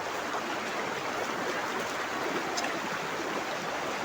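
River water during a crossing on foot near farmland, a steady broadband rush of flowing water that stays close and continuous throughout, with no talking.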